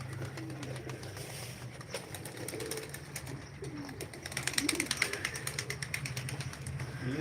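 Tumbler pigeons at a live pigeon auction give soft, low cooing amid faint rustling and light clicking that grows busier toward the end, all fairly quiet.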